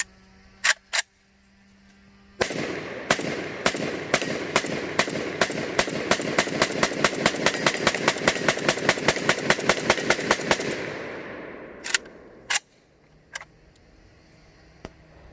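A Zastava ZPAP85 AK pistol in 5.56x45mm fires a long rapid string of loud, evenly spaced shots over roughly eight seconds, preceded and followed by a few sharp metallic clicks and handling sounds.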